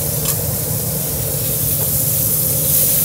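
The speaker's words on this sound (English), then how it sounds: "we're gonna add the artichoke and the sun-dried tomato to the pan" Artichoke hearts and sun-dried tomatoes sizzling in a hot pan beside seared salmon, a steady close hiss running unbroken with no talk.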